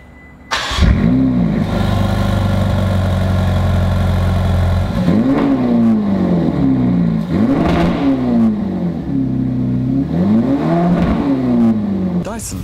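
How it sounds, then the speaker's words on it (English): A cold Ferrari engine fires up and settles into a high, steady fast idle for several seconds, then is blipped in three or four sharp, rising-and-falling revs, loud and close with a faint voice mixed in. "let's do some cold starts"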